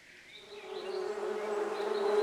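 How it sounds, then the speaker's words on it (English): Bees buzz steadily in a Carpathian forest, a dense droning hum that swells slightly louder over a couple of seconds, with no other sounds over it. "She's heard the buzzing of bees, and where there are bees, there's honey."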